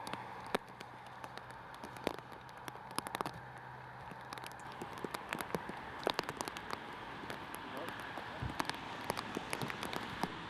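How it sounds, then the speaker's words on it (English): Light rain falling on an outdoor disc golf course, a soft continuous patter with scattered sharper drop ticks and crackles, faint and close, with no talking. "I feel like you can hear a little bit of the rain here"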